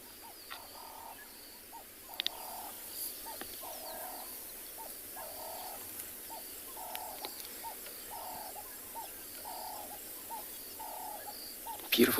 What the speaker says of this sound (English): Beautiful sound of a bird